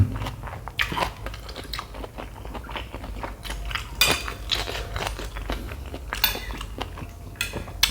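Crunchy fried pork skin (khaep mu) being chewed closely, eaten with a spicy pork-face salad, giving dense, loud, irregular crackling bites and crunches across the whole stretch, with no talking.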